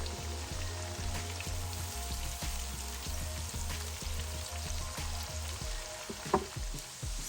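Chopped onion caramelizing with a bay leaf in a hot pan for a chicken stew, giving a steady close sizzle and crackle with small pops throughout and no voices.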